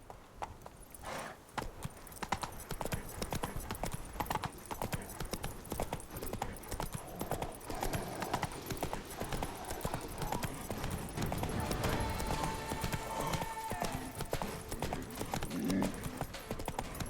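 Horse galloping in The Witcher 3 video game, fast continuous hoofbeats clip-clopping under game music, effects and a voice speaking.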